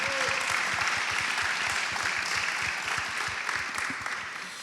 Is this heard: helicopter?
no